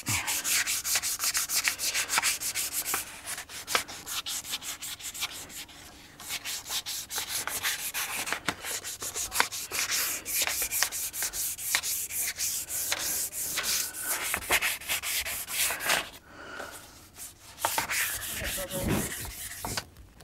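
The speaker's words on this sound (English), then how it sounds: "we've gone ahead and sanded this all the way down, all the way up, and we've taken all the rough stuff off" Wet-dry sandpaper rubbed over a guitar body in steady back-and-forth strokes, a close, continuous rasping hiss with brief pauses between passes.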